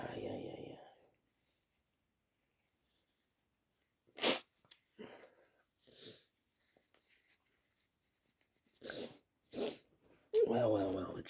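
A person working on a puzzle in a freezing room sneezes sharply, then blows their nose in a few short bursts, with quiet pauses and faint speech between.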